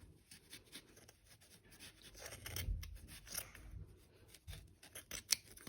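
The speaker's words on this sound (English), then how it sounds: "I'm going to continue cutting along the side here." Scissors snip through yarn loops to shape a pom pom, close-up and quiet, a series of irregular crisp cuts and rustling strands with no talk.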